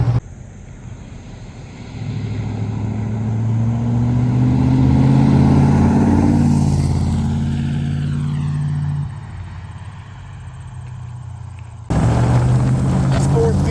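A 1958 Chuck Beck Lister Corvette engine pulls hard, its loud, close exhaust note rising steadily, then dropping on a shift and climbing again through the next gear, with a person talking over the roar.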